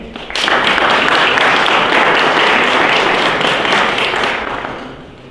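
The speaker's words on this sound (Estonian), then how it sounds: "Teeme aplausi veel kord ka neile" Dense, sustained applause from an audience at a Järvamaa culture awards ceremony honors the nominees, loud and close, then fades out near the end.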